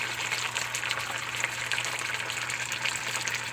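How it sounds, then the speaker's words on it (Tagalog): Water gushes steadily into a pan of sautéed canned sardines, a continuous splashing hiss that fills the whole moment. "Tapos lagyan na natin ng tubig"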